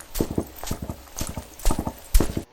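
Horse hooves clip-clopping in a steady trotting rhythm, clear and close, repeating in quick groups of beats with no one talking.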